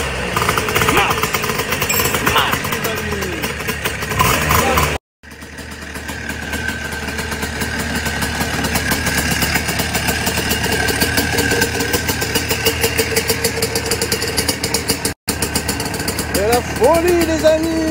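A go-kart engine runs at a steady, loud mid-pitched drone with a rapid buzzing pulse for most of the stretch, briefly cutting out twice, while someone talks over it.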